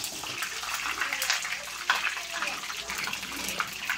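Small pieces hit hot oil and fry, giving a dense, sizzling crackle with scattered sharp pops close by, steady throughout with no talk over it.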